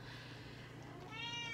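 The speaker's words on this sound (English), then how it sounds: "Hi, Grace, that's my cat." A pet cat meows once toward the end, a short, tonal, upward call over a steady low indoor hum.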